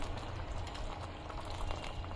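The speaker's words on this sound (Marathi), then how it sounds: "अजून पाच मिनिट आपण ही खीर उकळून घेऊ" Sago kheer, a milky pudding, boils in a pot over medium gas with a soft, steady bubbling and faint popping throughout, quiet and close.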